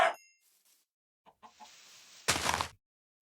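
Minecraft chicken clucks heard in a video game: a short cluck near the start, a few soft clucks and a hiss after a pause, then a louder broadband burst before silence.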